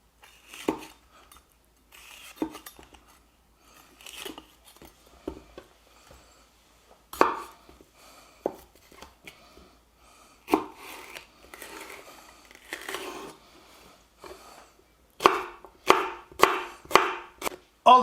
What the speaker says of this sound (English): Cube the paprika, removing obviously all the seeds that are inside.